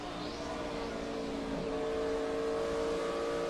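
Race cars at the 2008 Auto Club 500 at Fontana roar past in a steady, distant engine drone with a brief pitch shift as one passes, with no talk over it.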